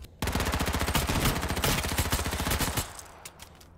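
Rapid bursts of single-fire gunfire from the battle royale video game H1Z1 crack out in a loud, fast rhythmic string for almost three seconds, then stop abruptly, leaving a brief quiet tail.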